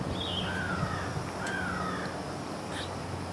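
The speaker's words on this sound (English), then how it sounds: "Hear that crow?" A crow caws a few times outdoors, its harsh calls standing out clearly over a low, steady background hum, with no one speaking.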